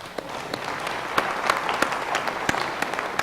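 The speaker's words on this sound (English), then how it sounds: "Please give him a round of applause." Applause from an audience at a conference gathering, a steady patter of clapping with a few sharper individual claps standing out, moderately distant and filling the room throughout.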